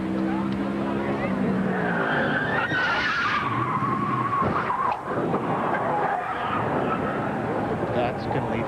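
Race car tires skidding and squealing during 2002 Pennsylvania 500 qualifying at Pocono, with engine roar behind and commentators talking over it throughout.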